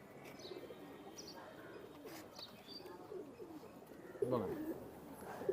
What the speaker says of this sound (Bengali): এ হচ্ছে পুরাতন জাতের গিরিবাস কবুতর